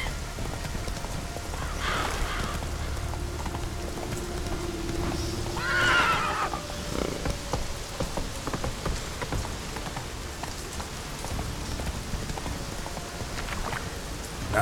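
Roach, a horse in the video game Witcher 3, clops along steadily through rain, with one clear neigh ringing out midway over the constant patter of falling rain.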